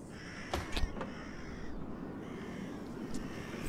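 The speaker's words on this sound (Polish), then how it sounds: "Ale ptaszki tu latają." Crows caw in the video game Syberia 3, two or three quick calls in a burst followed by a fainter single caw over a quiet ambient background.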